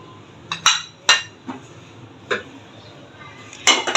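Metal pot set onto a pressure cooker in a home kitchen while making an ilish fish-head ghonto, giving several sharp clinks and knocks spaced irregularly, close and fairly loud.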